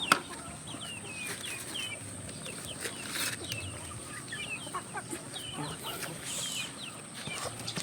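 Ducks and other fowl on a farm clucking and calling faintly at a distance, with occasional wing flaps against a quiet outdoor background.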